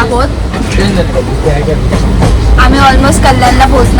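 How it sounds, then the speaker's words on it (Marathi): Steady rumble and rattle of the Chennai Mail passenger train moving near Kalyan, with voices talking loudly over the continuous rolling noise throughout. "आणि ही ट्रेन आहे चेन्नई मेल"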